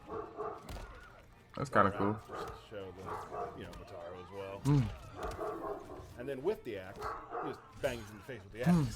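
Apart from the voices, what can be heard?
dogs barking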